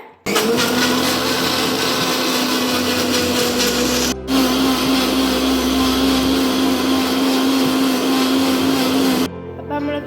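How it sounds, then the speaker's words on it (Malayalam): An electric mixer grinder blends beetroot and tomato with a little water, a loud, close, steady whirring roar that stops briefly near the middle and then resumes for several seconds. "നമുക്കിതൊന്ന് നന്നായി അരച്ചെടുക്കാം കേട്ടോ"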